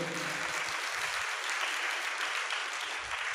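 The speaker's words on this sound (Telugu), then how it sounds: "చప్పట్లు కొట్టండి గట్టిగా" A congregation at a Sunday church service claps hard together, a continuous dense roar of applause that holds steady throughout, with faint voices mixed in underneath.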